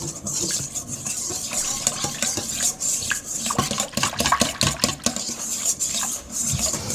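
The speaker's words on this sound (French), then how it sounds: "Je vais mélanger pour ne pas avoir de grumeaux." Batter of flour and baking powder for baghrir is stirred steadily in a bowl, giving a continuous scraping, clattering mix with irregular knocks of the utensil, close and moderately loud.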